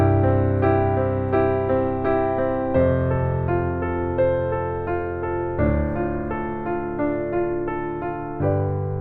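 Piano playing chord patterns with open fifths in the left hand beneath sustained right-hand chords, changing harmony every few seconds with a full, ringing, resonant tone, close and alone.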